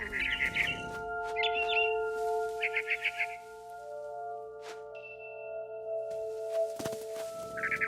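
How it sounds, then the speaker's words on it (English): Barn swallow in the video game What Remains of Edith Finch, giving repeated short chirps in bursts over a steady ambient hum, fairly close and moderately loud, with a few soft knocks in between. "Then I heard chirping outside my window. It was a barn swallow going back to her nest."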